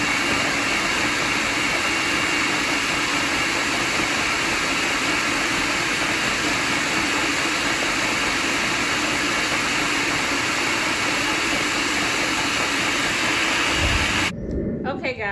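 A food processor blending black-eyed pea hummus, a loud steady motor whir with rough grinding that runs without a break for about fourteen seconds before cutting out.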